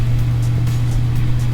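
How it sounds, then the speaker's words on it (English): A 2002 Chevrolet Silverado fitted with Speed Engineering headers idles nearby, its exhaust giving a steady, deep rumble that stays at an even level throughout. "Exhaust is a little louder than I'd like, and it's also stinkier than I'd like"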